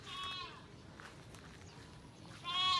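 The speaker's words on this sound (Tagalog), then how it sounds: "So yan po ang ating mga tupa naman." Sheep bleat on a farm, two wavering calls at the start and end over a low outdoor background, moderately close with quiet stretches between.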